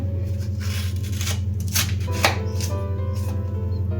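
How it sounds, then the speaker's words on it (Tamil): A knife cuts through firm raw mango flesh beside the seed in quick, close, crisp slicing strokes over a constant low mechanical hum, with no talking. "இந்த விதை பக்கத்தில் இருக்க சதையை நீங்கள் கட் பண்ணி எடுத்துக்கலாம்"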